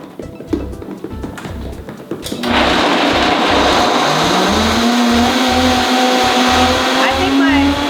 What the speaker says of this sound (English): And then I take it over to the Vitamix and now it's gonna get loud in here.